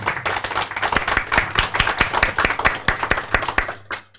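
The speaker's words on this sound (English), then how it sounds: "I believe that Leah deserves another round of applause, right?" Audience applause at a peace actors forum: a fairly close, brisk run of individual hand claps, somewhat sparse and uneven, stopping just before the end.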